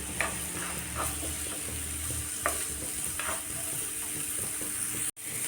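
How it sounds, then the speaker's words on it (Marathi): Vegetables for egg fried rice are stir-fried over a high gas flame in a pan, with a steady sizzle, a low burner rumble and several quick spatula scrapes, all without speech. "मोठ्या गॅसवरच आपल्याला भाजी परतून घ्यायची आहे"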